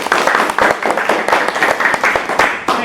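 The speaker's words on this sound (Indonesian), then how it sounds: "Kita kasih tepuk tangan dulu ya buat Arif." A studio audience claps for Arif, an Indonesian national-team archer, in a close, lively burst of rapid, uneven hand claps that runs steadily throughout.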